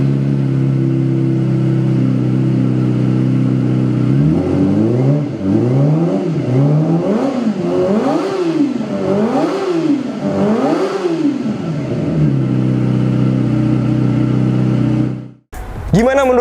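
A Kawasaki ZX25R motorcycle with an aftermarket exhaust and dB killer fitted idles steadily, then revs repeatedly in a run of rising and falling throttle blips, settles back to idle and cuts off abruptly near the end.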